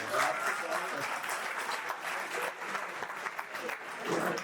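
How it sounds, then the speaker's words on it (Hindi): An audience at a university hall program in Indore breaks into steady applause, a dense wash of clapping that holds at fairly even loudness throughout, with scattered voices mixed in beneath. "ये ताली किसके लिए बजाए?"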